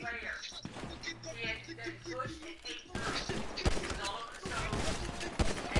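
Video game gunfire crackles in rapid bursts during a match, loud sharp shots clustered in the second half while a voice talks over the earlier part.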